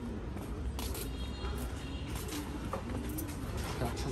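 Homing pigeons in a loft, with soft cooing calls repeating over a steady bed of rustling and low ambient noise; no voices are heard.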